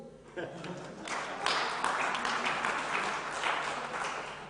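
Applause from a seated audience at a civil society and NGO conference after a law professor is introduced, building to a steady, moderately loud wash of clapping that runs through the clip with a faint voice mixed in.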